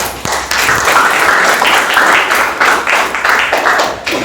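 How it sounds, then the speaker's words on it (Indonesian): Classroom applause, a dense continuous patter of many hands clapping together, fairly loud and steady throughout with no voices over it. "Ya, tepuk tangan."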